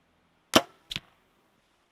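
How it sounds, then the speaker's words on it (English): Arrows shot from a bow at an apple target, two sharp close impacts about half a second apart with a third strike starting at the very end, each a crisp snap over near silence. "See how many times I can shoot through that apple before smashing some arrows."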